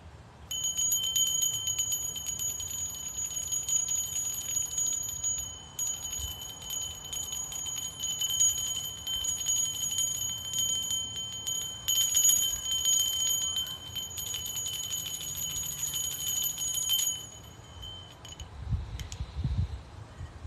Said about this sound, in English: So we're going to use this bell.